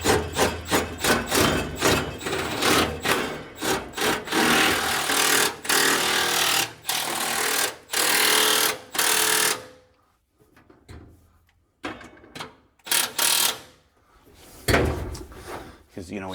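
An SDS rotary hammer drill bores through an inch of drywall and a furring strip in a garage, giving loud, rattling hammering bursts with short pauses between them, then quieter stretches.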